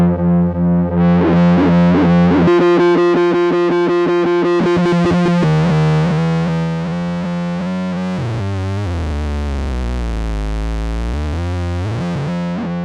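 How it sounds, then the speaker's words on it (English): A Softube Model 72 synthesizer squeals and drones with harsh, distorted self-oscillating tones as it overdrives, pitches sliding and warbling, buzzing loudly and continuously without any voices. "could self-oscillate, it overdrives and goes crazy"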